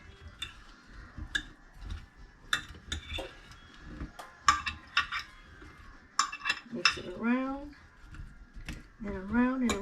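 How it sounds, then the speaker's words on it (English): A cheesy garlic potato casserole is stirred in a bowl, with quick light clicks and clinks of a utensil against the bowl in an uneven rhythm, close by, and a voice speaking near the end. "so now we're going to mix this up"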